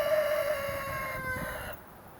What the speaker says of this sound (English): during the day, it's mainly chickens out here